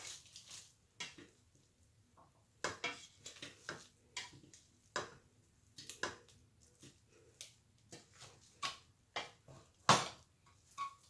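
Red skin potatoes, drained and mashed in a pot with a hand masher for garlic mashed potatoes, giving a steady run of soft squishy thumps and light metallic clinks against the pot, close and fairly quiet with no talking.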